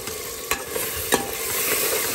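A spoon stirs salted Punjabi-style bottle gourd curry masala in a hot frying pan, with steady sizzling throughout and a few scraping strokes, close and fairly loud with no talk.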